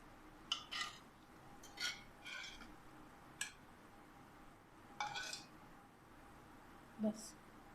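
Khichdi being dished out with a spoon, several soft scraping clinks of spoon against pot and plate, spaced irregularly and fairly faint in a quiet kitchen.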